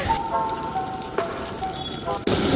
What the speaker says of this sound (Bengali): এই যে দাদা দোকানে ডিমগুলোকে কেটে কেটে ফ্রাই করে নেওয়া হচ্ছে।